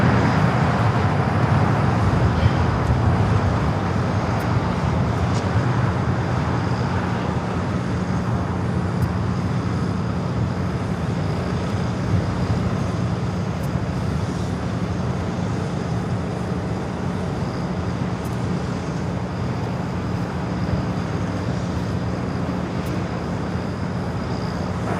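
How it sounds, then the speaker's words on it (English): An Airbus A380 airliner pushing back at LAX gives a steady, broad jet and airport roar that stays level throughout at a moderate distance, with no talking. "Green Air A380 Superflight 18 now pushing back, should be heading up there to the north side."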